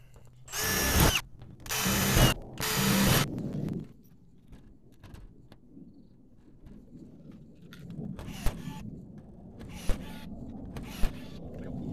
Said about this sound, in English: You can drill these out.